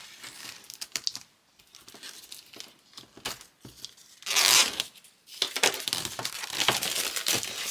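Plastic film is torn and peeled off a Lightwish Madisi 24 Nano watercolour set, with close, irregular crinkles and sharp rips and a louder burst of crackling midway, then sustained rustling.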